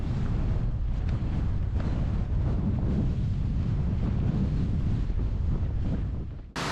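Strong wind gusts over a mountain summit shrouded in thick cloud in the Brecon Beacons, buffeting the microphone with a loud, continuous low roar and no voices, cutting out abruptly near the end.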